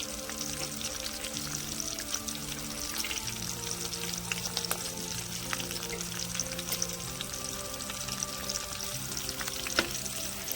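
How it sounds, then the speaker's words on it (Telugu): Halved peanuts fry in hot oil in a pan, a steady close sizzle with crackling bursts and faint pops throughout, no voices. "పల్లీలు ఇలా మధ్యకి కట్ చేసుకొని వేసుకుంటే తొందరగా వేగుతాయి"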